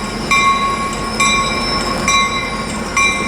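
Coaster commuter cab car number 2308 rolling past on the Surf Line in San Diego, a steady loud rail rumble with repeated bright tonal horn blasts recurring about every second.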